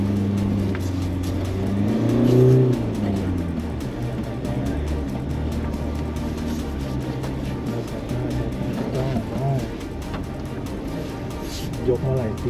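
A 2022 Ford Ranger Wildtrak 4x4 pickup engine pulls steadily off-road on slippery ground, a continuous low drone with slight rises in revs, heard under someone talking throughout.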